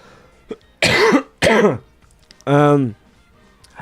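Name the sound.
coughing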